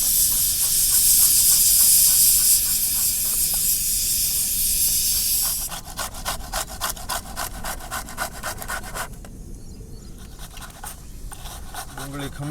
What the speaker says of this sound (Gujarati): હવે આપણે ડુંગળી ખમણી લઈશું.